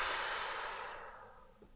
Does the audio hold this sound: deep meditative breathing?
yes